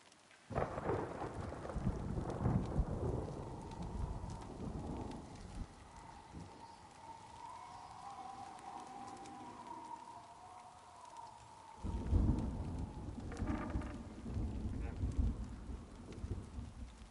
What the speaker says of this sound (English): It's hail. I've never heard hail this loud